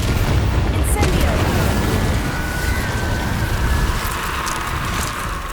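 A fiery Incendio spell blasts in Hogwarts Legacy, producing a loud, sustained roaring burst with heavy low rumble. Crackling whooshes carry through the full stretch with no pause, and the noise of battle stays dense behind it.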